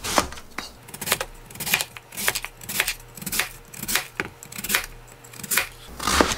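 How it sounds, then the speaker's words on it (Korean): A knife chops radish into small cubes for kkakdugi kimchi on a cutting board, giving rapid, close, rhythmic thuds in quick bursts with brief pauses and no talk. "어린이용 깍두기는요, 먼저 아주 작게 썰어줍니다"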